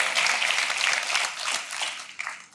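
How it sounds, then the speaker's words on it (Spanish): A church congregation applauds in a sustained burst of dense clapping with a steady wash of hands, fairly loud and close, fading slightly toward the end with no voice over it. "Dale un aplauso a Dios bendito, hermano querido"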